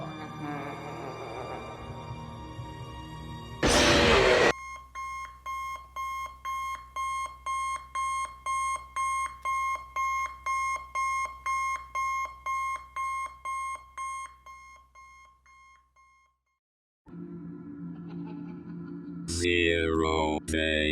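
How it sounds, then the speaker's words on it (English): An alarm clock rings at dawn in Five Nights at Freddy's, a loud run of steady, evenly spaced electronic ringing bursts that carry on for about ten seconds and then stop, with no voices over it. "The only way to survive is to hold out until the morning dawn, the victorious trumpets of an alarm clock."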